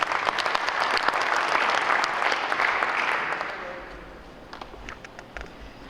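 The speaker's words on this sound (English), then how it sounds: "I want to round of applause for all our sponsors that make this happen" A hotel owners' regional conference audience applauds its sponsors, a full round of many hands clapping that swells, holds, then thins out and fades toward the end.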